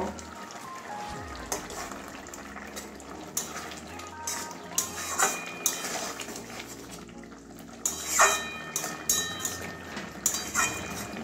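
Bengali rohu fish curry with water spinach and a little garam masala is stirred and mixed in a pot, giving soft wet squelches and scraping clinks in uneven bursts, fairly close and quiet.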